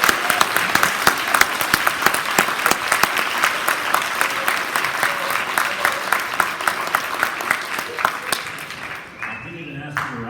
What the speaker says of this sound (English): if you would please join me in giving a round of applause.